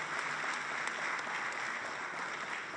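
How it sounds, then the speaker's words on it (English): Steady, dense applause from a dinner audience at a Nigerian-British Chamber of Commerce inauguration dinner, loud and continuous throughout without any talk over it. "Please give them a round of applause, please."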